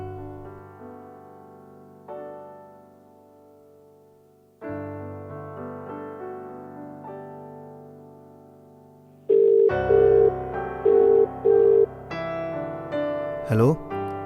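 A phone call placed from a Hindi film household: a steady tonal line tone gives way to repeated ringback tone bursts with regular gaps, then a brief rising chirp, all fairly close and without speech.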